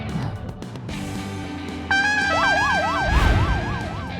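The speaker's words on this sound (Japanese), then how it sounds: "学校の周りでうちの生徒が乗るバイクとパトカーがカーチェイスする音がしょっちゅう聞こえてくる。" A police siren starts up partway through, its wailing tone sweeping rapidly up and down, loud over engine and traffic noise.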